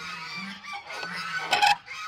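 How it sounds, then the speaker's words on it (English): Several geese honk repeatedly nearby, overlapping calls rising into a louder burst of honking near the end. "The geese heard me"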